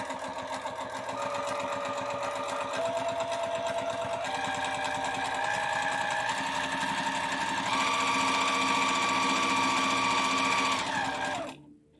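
A sewing machine runs continuously while stitching along a marked line, a close, steady rapid mechanical whir whose pitch climbs in steps as it speeds up, then stops abruptly at the end.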